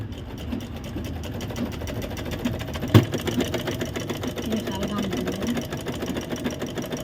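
A sewing machine stitching fabric at home: steady, close, rapid mechanical whirring and clatter running throughout, with one sharp knock partway and voices talking over it.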